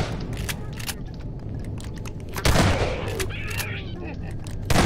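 Gunfire from a gun in the horror game Nightmare House 2: several sharp shots cracking over a low hum, with a louder blast midway, and someone talking alongside.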